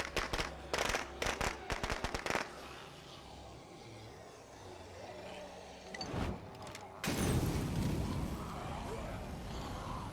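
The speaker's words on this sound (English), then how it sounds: "So I threw the firecrackers too close to the door" Firecrackers going off in State of Decay 2 near a building door: a rapid string of sharp pops in quick bursts for about two seconds, then a few isolated louder cracks and a heavier crackling blast, with no one talking.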